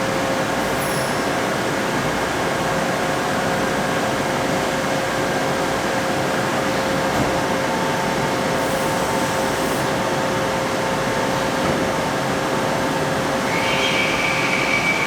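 A CNC machine running tool paths in a workshop, a loud, constant mechanical hum with a steady high whine throughout and no talking.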